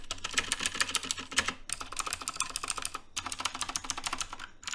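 Rapid clattering key taps on a mechanical keyboard, the Mountain Everest Max, with its spacebar rattling from poor stabilizers, in three dense bursts separated by brief gaps, close and alone.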